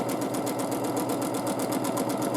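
A sewing machine runs fast and steady while free-motion quilting back-and-forth diagonal lines, a close, even rapid needle chatter with a regular pulsing rhythm throughout.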